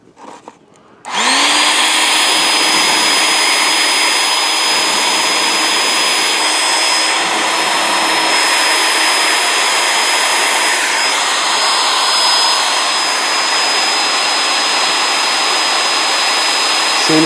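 An air blower switches on after a short quiet start and then roars steadily, loud and close, as it forces air into a homemade coal forge, holding a constant rushing hum with a thin high whine throughout.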